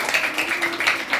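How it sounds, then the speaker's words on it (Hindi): Children at a school Republic Day function clapping together, a short burst of rapid, overlapping hand claps heard close and fairly loud. "ताली बजाओ, तालियां।"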